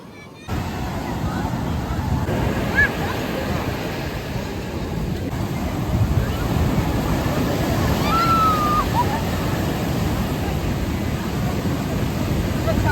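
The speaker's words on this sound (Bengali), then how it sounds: "পুরীর জল এত পরিষ্কার দীঘার জল ফেল পুরো দেখো কি ঢেউ এদিকে" Sea waves break on the beach at Puri in a continuous, loud, washing roar that swells and recedes, with a crowd of beachgoers chattering in the background.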